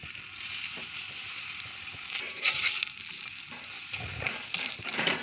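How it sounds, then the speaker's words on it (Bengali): A dal paratha fries in white oil on a tawa, giving a soft, steady sizzle with faint scraping and stirring touches, quiet and close. "এবার আমি ভেজে নেব। সাদা তেল দিয়ে দেবো।"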